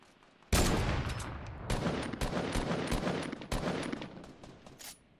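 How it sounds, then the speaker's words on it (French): An enemy fires in a Fortnite Battle Royale match. A sudden loud burst of rapid automatic gunfire runs for several seconds, broken by a few short pauses between the bursts. "Ah, il tire, je vais passer sur le côté gauche"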